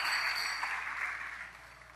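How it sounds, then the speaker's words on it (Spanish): A church congregation applauds during a worship service, with a dense, steady wash of clapping that starts full and gradually fades toward the end. "Dale un fuerte aplauso al Señor si usted está entendiendo"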